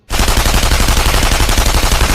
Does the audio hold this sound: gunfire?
yes